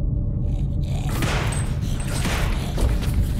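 Gunfire aimed at a zombie in the video game Ebola 3: dense, rapid shots blur into a continuous, loud crackling barrage that runs for the whole stretch with no pauses.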